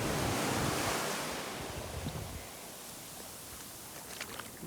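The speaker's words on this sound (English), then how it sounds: "just stand in the water and let the water wash over your feet." Ocean waves wash onto the beach at Coco Beach in Dar es Salaam, Tanzania, a steady broadband surf roar with wind buffeting the microphone, loudest at the start and then settling to a softer continuous wash.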